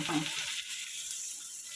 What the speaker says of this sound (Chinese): 接下来来爆香我的洋葱，这大概有1颗洋葱的量